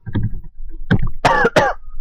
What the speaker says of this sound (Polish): Jeszcze raz przepraszam za to, że kaszlam, ale gardło mnie boli.